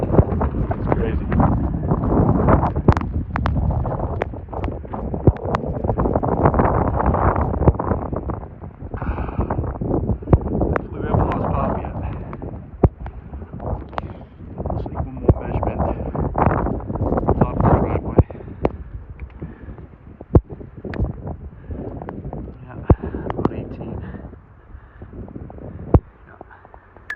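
Strong blizzard wind roars steadily across a snowy Middleboro, Massachusetts yard at the height of a February storm, driving snow sideways with loud gusty rushes and buffeting against the microphone, while someone talks over it now and then.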